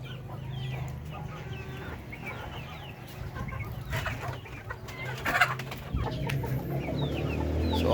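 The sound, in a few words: chickens clucking outside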